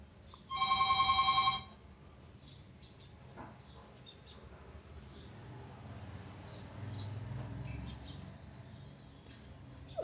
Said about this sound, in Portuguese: O telefone tocando aí.